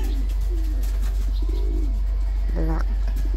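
Pigeons coo in a loft of fancy breeds including a black cock bird and grizzles, low rolling calls repeating close by over a steady low hum.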